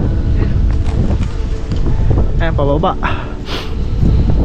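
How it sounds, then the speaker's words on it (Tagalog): Strong, blustery wind buffets the microphone outdoors at People's Park in the Sky in Tagaytay, a steady roaring rumble while someone talks over it. "Lakas ng hangin dito."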